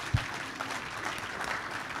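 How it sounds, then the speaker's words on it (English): A seated audience at a book talk on the British Empire claps steadily, a dense, moderately loud wash of applause throughout, with a single sharp knock near the start. "round of applause, I think, for Matthew"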